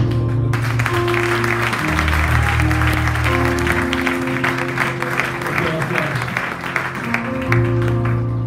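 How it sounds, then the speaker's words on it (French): A church congregation at an Easter service claps loudly and continuously, dense applause filling the room with a steady musical tone sustained underneath and voices mixed in throughout. "On acclame."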